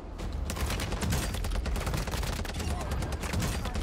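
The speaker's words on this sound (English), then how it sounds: "They were shooting at each other. There's two different teams." Two enemy teams trading gunfire in the Warzone video game, dense continuous bursts of shots layered over one another with no break.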